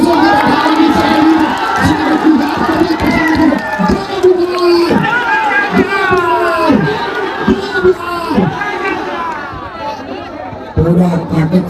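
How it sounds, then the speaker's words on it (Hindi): A large crowd at a Bihar political rally for Prashant Kishor cheering and shouting, with repeated rising and falling voiced chants and yells, loud and close, under a dense wash of crowd noise and clapping. "अब एक बार जोरदार तालियों से प्रशांत किशोर जी"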